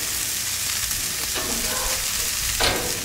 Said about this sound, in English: Going to flip it quickly, flip it, because it doesn't need to cook a lot.